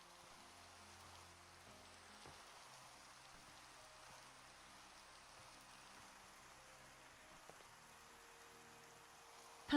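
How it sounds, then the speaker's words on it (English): Steady, soft hiss of rainfall with a faint low hum beneath, continuous and even throughout, with no voices. "I need to enjoy some of that rain."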